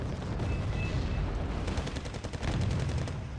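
Missiles streak toward an Avenger air-defense vehicle in Wargame Red Dragon, a rushing blast and rumbling impact with crackling fire, loud and continuous, with no voices.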